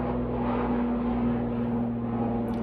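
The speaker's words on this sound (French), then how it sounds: "j'attends que l'avion passe." An airplane passes overhead as a steady, broad, continuous engine roar with a low droning hum. It stays loud and even throughout, with no voices.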